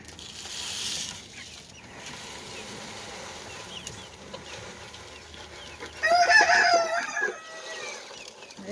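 Chickens cluck and murmur close by, a small flock that includes a two-year-old mini hen, with a brief louder burst of squawking and crowing-like calls partway through and a steady outdoor background.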